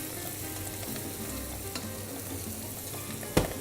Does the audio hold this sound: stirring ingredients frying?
yes